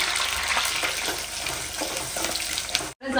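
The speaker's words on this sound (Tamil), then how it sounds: "பூண்டு கருவேப்பிலை பொரிஞ்சோடனே சின்ன வெங்காயம் கட் பண்ணி வச்சிருக்கேன், அதையும் சேர்த்துடலாம்" Small shallots tipped into hot oil with garlic and curry leaves set off a loud, dense hiss of frying that runs continuously before a sudden short break.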